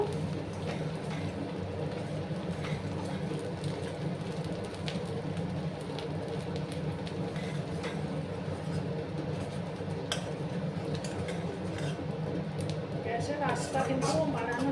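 Dried chepa shutki fish frying in a pan, a steady pattering sizzle that runs throughout.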